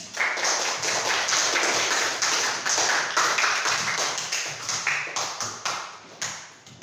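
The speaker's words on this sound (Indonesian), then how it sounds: "Tepuk tangan dulu semuanya." A classroom of students applauds together with steady, sharp rhythmic claps at a strong, close level. The clapping holds for several seconds, then thins out and fades at the end.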